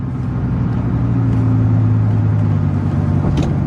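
A Dodge Ram SRT10 pickup truck's engine is held at about half throttle, giving a loud, close, steady deep rumble with a sustained droning hum and no talk.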